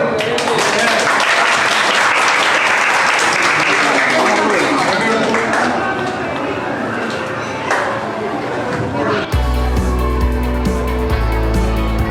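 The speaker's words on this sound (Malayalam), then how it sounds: "ആ കൈയടിച്ചു കൊടുക്കല്ലോ" Audience applause at the inauguration of the RBM Gym and Fitness Club, a dense, loud burst of clapping from a gathered crowd that gradually thins out, followed by music.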